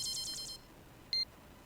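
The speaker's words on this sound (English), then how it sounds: "my phone's alarm is always so loud" A phone alarm going off: a quick run of five rapid high electronic beeps, then a pause and a single longer tone, close and fairly soft over a quiet background.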